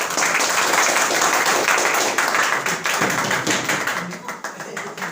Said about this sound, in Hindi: थोड़ा तालियों में हमको लगता है थोड़ा सा कमी है।